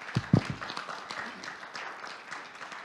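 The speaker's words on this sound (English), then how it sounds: "Can we have a big round of applause for them?" A crowd at a regional water, energy and climate policy forum claps in a steady, diffuse patter at moderate distance, following a brief voice at the start.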